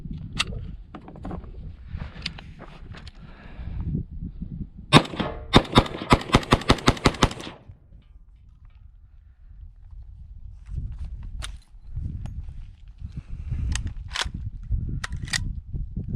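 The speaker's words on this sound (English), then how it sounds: "I'm not a big fan of mag dumping, but we got to see the reliability." Winchester 350 Legend 145gr ammunition fired in a rapid mag dump at a target 50 yards out: a tight burst of about ten sharp, loud rifle shots in quick succession, with scattered single shots and handling noises before and after.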